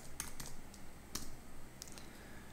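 Soft, quick keystrokes on a computer keyboard as a password is typed in, a faint, uneven run of light clicks with no talking.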